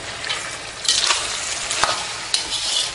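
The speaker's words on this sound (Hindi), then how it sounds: "ऑयल नज़र आ रहा है, इसको फ्राई कर रहे हैं" Pumpkin halwa frying in oil while being stirred, a close, steady sizzle with scraping swells and a sharp clack of the utensil against the pan, no talking.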